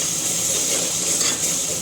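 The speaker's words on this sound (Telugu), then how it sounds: "నెక్స్ట్ అల్లం ఎల్లిగడ్డ వేసుకుంది తర్వాత దీన్ని కలుపుకోవాలి." Ginger and garlic fry in a hot pan and get stirred, giving a constant bright sizzle with faint scraping over a short stretch.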